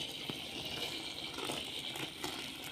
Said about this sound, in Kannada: ಎಷ್ಟು ಬೇಕಷ್ಟು ನೀರು ಹಾಕಿದ್ದೇನೆ